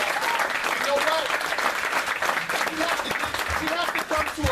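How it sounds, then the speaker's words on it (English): Lecture audience at a bookstore applauding two speakers, steady hearty clapping filling the room with a voice talking over it throughout. "So let's give both these young brothers a round of applause"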